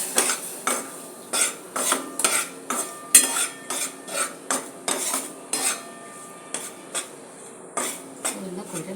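Wheat flour roasts in a pan for vegetable halva while a metal spoon stirs it, giving a close series of rhythmic scraping clinks against the pan with only faint sizzle underneath.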